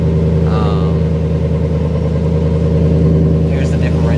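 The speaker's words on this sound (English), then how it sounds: "It's pretty loud for stock exhaust" A chrome-edition pickup truck with stock exhaust idles close by, a loud steady low rumble with an even throb, a short voice and a faint squeak over it.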